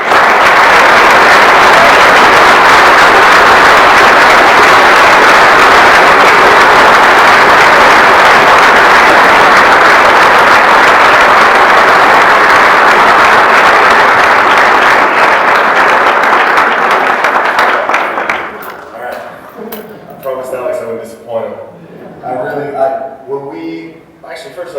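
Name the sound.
audience applauding to welcome a speaker on stage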